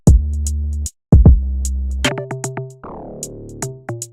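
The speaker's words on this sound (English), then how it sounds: "After that, I added this log drum." Deep bass hits give way to a run of short, woody, pitched log drum notes in a bouncy rhythm, with crisp hi-hats ticking overhead, in an FL Studio beat.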